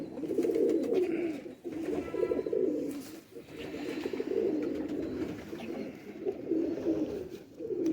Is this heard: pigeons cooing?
yes